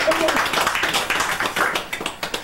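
Several people clap for a student in irregular, close patters over a couple of seconds, with voices mixed in.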